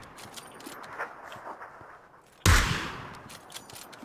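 A single loud, sharp gunshot in the battle royale game PUBG, close and sudden after faint rustling and distant pops.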